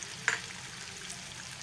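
Tomato puree going into a pan of sizzling cumin, a steady soft frying hiss with one brief splashy hit near the start.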